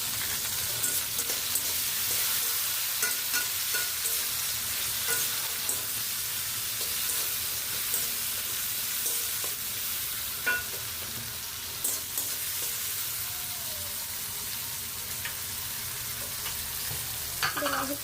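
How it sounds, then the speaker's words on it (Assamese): Chopped onion and tomato frying in oil in a pan after eggs were fried, a steady fine sizzle and hiss with occasional soft stirring scrapes and clicks, close and continuous without speech. "পিঁয়াজটো ফ্ৰাই হৈ গৈছে এতিয়া বিলাহী দিলোঁ"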